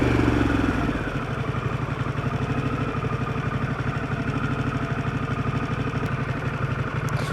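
A Harley-Davidson Pan America Special motorcycle engine held steady around 3,000 RPM, a loud, even, rapid pulsing drone that continues unbroken after a brief louder start.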